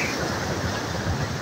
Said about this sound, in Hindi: समंदर अपना लहरें मारते हुए